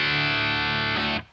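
An electric guitar runs through an amp simulator at a low input level, giving a single sustained, mostly clean chord that rings steadily and is cut off sharply after about a second.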